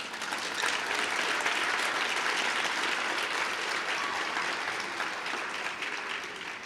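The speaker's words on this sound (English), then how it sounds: "Please give yourselves a round of applause" A large graduation crowd of the class of 2023 claps in a thick, sustained roar of applause, steady and fairly loud from start to finish with only a slight easing at the close.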